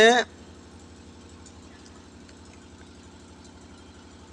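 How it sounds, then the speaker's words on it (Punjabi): After a brief loud burst at the start, a low generator hum drones on steadily in the background, fairly quiet and unchanging. "ਆਵਾਜ਼ ਬਹੁਤ ਆ ਰਹੀ ਹੈ ਜਨਰੇਟਰ ਦੀ"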